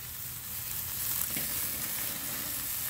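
Steady, close sizzling of mild sausages and onions frying on a hot Weber grill, a constant crackling hiss with no voices.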